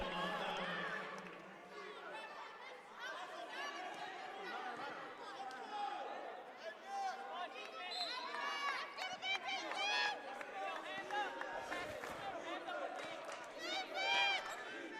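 Spectators at a men's college basketball game between Catonsville and Montgomery College react with disapproval: a loud indoor crowd of jeering and shouting voices, with sneaker squeaks from the court and play-by-play commentary running over it.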